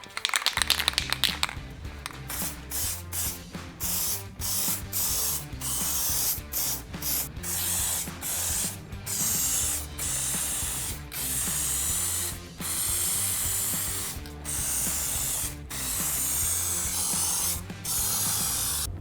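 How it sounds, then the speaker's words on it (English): Spray paint going onto the fender flare of a Ford F-150 Raptor for a second coat, heard as a long run of short, close hissing bursts in a steady stop-start rhythm with no talking. "Now we're gonna apply the second coat."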